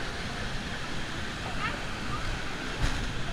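Broadband rushing roar of Ditumabo Mother Falls in San Luis, Aurora, a steady close wash of falling and churning water, with people talking faintly underneath.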